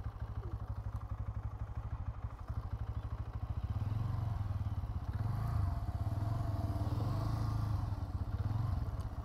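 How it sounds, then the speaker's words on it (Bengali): A Bajaj Pulsar N125 motorcycle engine thrums steadily at close range while cornering in a tight space, its pulsing exhaust note swelling slightly midway and holding a rhythmic, even beat throughout. "এবার চলুন আমি কর্নারিং করে দেখি এই বাইকটা যে কর্নারিং করতে পারছি কি না"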